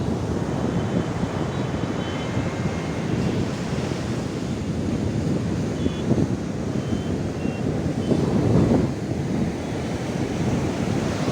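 Waves at Puri beach break and wash in a dense, loud, continuous roar with wind rushing across the microphone and no voices.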